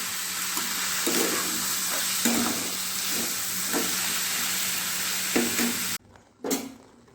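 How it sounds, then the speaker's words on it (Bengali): Mango pieces simmering in sugar syrup with cardamom for a sweet-sour jelly pickle, a steady bubbling hiss with periodic stirring scrapes, ending abruptly into near silence. "দেখুন বন্ধুরা কি সুন্দরভাবে এটা খুব ভালোভাবে ফুটছে"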